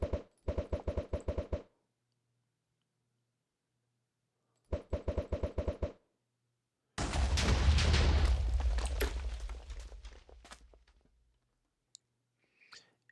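Video-game explosions in Minecraft: two bursts of rapid clicking pops, then one long, loud rumbling blast that slowly fades, with a few scattered clicks afterward.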